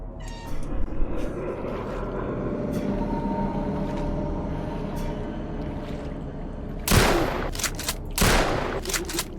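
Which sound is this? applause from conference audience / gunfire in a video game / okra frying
gunfire in a video game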